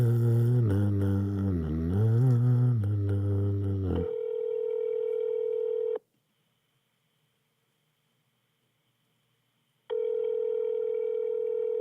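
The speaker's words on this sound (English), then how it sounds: "This is what happens. It just keeps ringing." Telephone ringback tone on an unanswered call: a steady electronic tone sounding for several seconds, falling silent for about four seconds, then starting again, after a brief stretch of other audio, with no talking over it.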